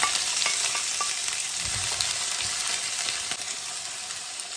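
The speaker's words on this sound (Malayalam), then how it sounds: "റെഡിയാക്കി വെച്ചിരിക്കുന്ന കോവയ്ക്കായും ഉള്ളിയെല്ലാം ഇതിലേക്ക് ഇട്ട് കൊടുക്കണം." Ivy gourd and onions stir-frying in a pan without oil, making a steady close sizzle with occasional light stirring scrapes and no voices.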